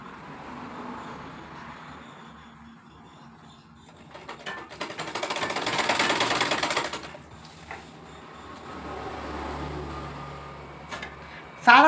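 A sewing machine stitches a plain cotton petticoat in short bursts of rapid mechanical chatter, the longest run swelling loud in the middle, with quieter handling sounds and brief talk between.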